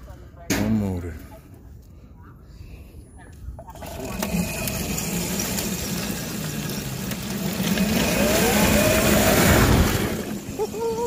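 Electric go-kart drive motor fed 200 amps, running on a single motor, whirring and rising steadily in pitch after a brief start, fairly loud and near, with voices talking over it.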